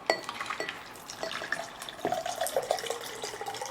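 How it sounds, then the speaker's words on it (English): Drink poured into a cider glass: a steady liquid splash and trickle with faint glassy clinks, close and fairly quiet, and no one speaking. "we're gonna pour it into our Doc's cider glass"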